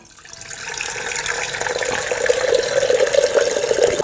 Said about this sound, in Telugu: దీంట్లో నీళ్ళు పోసుకో.